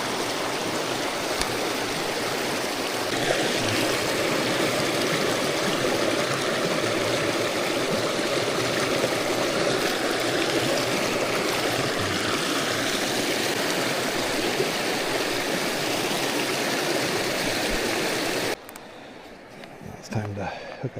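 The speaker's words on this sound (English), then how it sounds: "So get some, scoop up some water here." A flowing stream runs steadily at a trail water stop during a hot-day bikepacking ride on the Tour Divide, a constant close wash of water that drops away near the end.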